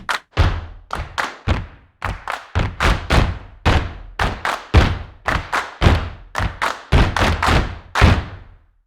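Sampled stomps from eight people recorded in a large hall: loud, close, heavy thuds land in a steady rhythmic pattern, some in quick pairs, each with a short roomy tail and no talking.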